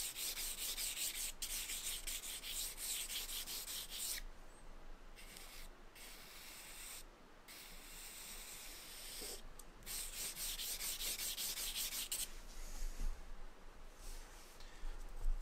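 Charcoal rubbed across paper with a B stick to darken shading beneath a table edge, a close, steady scratchy rasp of repeated strokes with brief pauses, no talk.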